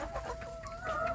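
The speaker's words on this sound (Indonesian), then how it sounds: "saya memberi makan anak ayam kampung saya sedulur yang ada di kandang pembesaran" Native village chickens cluck softly and continuously at close range while chicks are fed in a rearing pen, a quiet farmyard murmur with no talking.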